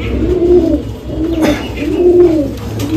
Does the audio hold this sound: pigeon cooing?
yes